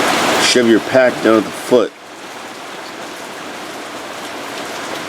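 Rain falls on an Outdoor Research Advanced Bivi shelter outdoors, a steady, even patter of drops that carries on alone after someone speaks briefly at the start.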